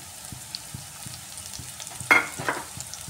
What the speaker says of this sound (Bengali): পেঁয়াজটা ফ্রাই করে নিচ্ছি। পেঁয়াজটা হালকা ব্রাউন হয়ে আসছে।